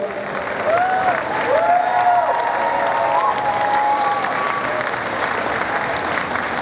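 Sustained audience applause at a Tomb Raider 20th anniversary panel at Play Expo, a steady, dense clapping from a large crowd that holds evenly throughout, with faint tonal squeals drifting above it.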